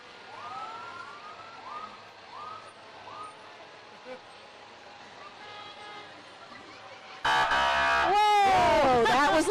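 A fire truck siren wails in a nighttime parade of lights in Cortez, Colorado, first as distant rising whoops, then blaring suddenly loud and near, sweeping up and down.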